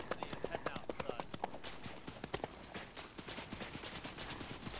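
Horse hooves clip-clop in the video game Arma 3 during a First Boer War scenario, a quick rhythmic trot that starts crisp and grows busier as other sounds layer in.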